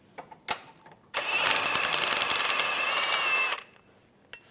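An impact or power tool loosens the rear lower control arm bolt on a 2007-2011 Toyota Camry, a loud continuous whirring burst of about two and a half seconds, close up, with faint clicks before and after.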